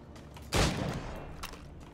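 A single gunshot fired in Assassin's Creed Rogue, a sharp loud burst that decays over about a second, followed by a fainter secondary report.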